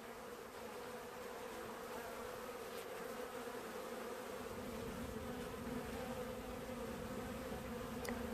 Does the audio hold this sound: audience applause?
no